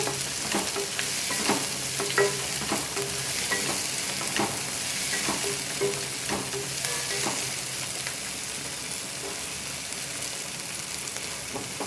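A ladle stirs tomato and dried prawn curry in a pan of hot oil, with steady scraping strokes over a continuous close sizzle and no voices.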